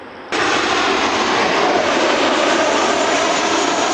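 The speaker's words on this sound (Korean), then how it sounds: "비행기" A fixed-wing airplane roars overhead beside the Gyeongin Ara Waterway, a loud, steady broadband jet rumble that swells abruptly and then holds for several seconds with no voices.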